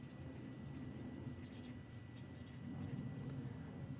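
A number being written out by hand in words during a basic math lesson on decimals, heard as faint, close scratching strokes in short bursts over a quiet room hum.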